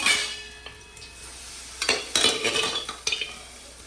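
Cooked mutton being stirred into well-roasted masala in a pot for Kolhapuri tambda-pandhra rassa, heard as a quiet spoon scraping and clinking against the metal pot in uneven bursts, with a faint sizzle beneath and no talking.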